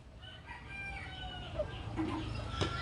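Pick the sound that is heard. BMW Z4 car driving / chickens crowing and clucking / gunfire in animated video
chickens crowing and clucking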